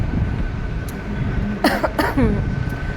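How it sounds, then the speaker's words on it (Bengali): A couple of short, sharp coughs around the middle, close by, over a steady background rumble. "ভীষণ কাশি হয়েছে আর কি"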